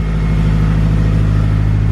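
K-swapped Mazda RX7 running a GTX3076R turbo on its first start, idling rich with a steady, loud, close engine rumble and a fast even pulse under it, no voices.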